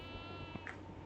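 A goat bleats once inside the horror game Devour's farmhouse level, a short mid-pitched cry standing out briefly over a steady droning game ambience.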